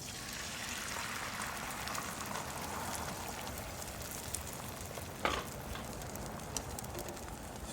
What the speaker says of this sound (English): Now you're going to add your eggs in, so you can use that bacon fat.